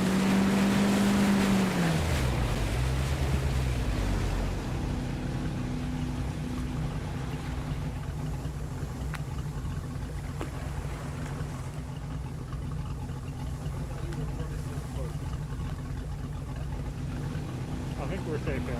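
Boat engine idling in the video game ArmA 3, a steady low drone with a tonal hum that drops in pitch early on, then runs on continuously alongside wind and water wash.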